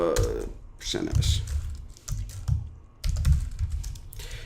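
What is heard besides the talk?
typing on a computer keyboard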